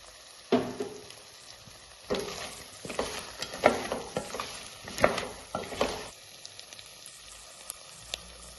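Crab curry with coriander leaves sizzles in a frying pan while a spoon stirs it in irregular scraping bursts, close and fairly loud, fading to a quieter sizzle near the end.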